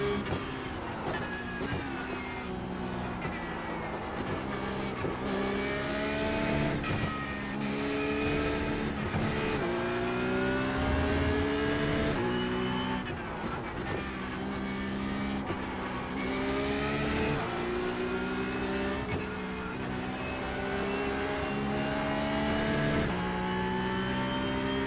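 Porsche Cup race car engine in iRacing, a steady sustained drone with rising and falling pitch sweeps as it revs through gears, loud and continuous throughout with occasional shifts.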